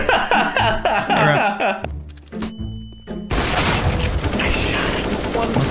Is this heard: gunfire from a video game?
yes